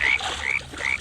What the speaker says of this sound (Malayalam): അവിടെ തവള വന്ന്